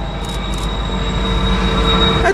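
Freight train rolling past on the Tehachapi line, a loud steady rumble and rattle of cars close by, with faint squeals of wheels near the end.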